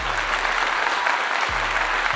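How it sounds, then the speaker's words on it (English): Loud, dense audience applause fills the whole stretch, a continuous roar of many hands clapping close by, with a faint low hum underneath. "Let me give them a clap."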